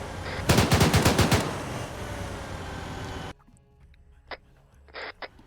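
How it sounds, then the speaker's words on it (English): Automatic gunfire in a Gulf War military video game, a close burst of rapid shots lasting about a second, followed by quieter ambience and a few distant shots. "Now you can hear shooting."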